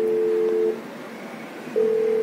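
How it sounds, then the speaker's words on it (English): A Cisco IP phone dials an extension with two steady, clear DTMF keypad tones separated by a brief quiet gap, close and alone. "now I'm dialing the extension number from the IP phone"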